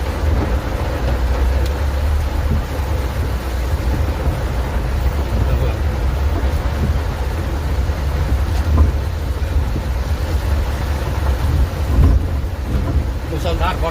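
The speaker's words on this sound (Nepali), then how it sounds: "मुसलधार वर्षा हुँदैछ।" Torrential monsoon rain falls over Tarahara, Nepal, heard from a moving vehicle as a loud, dense, unbroken roar with a deep low rumble running throughout.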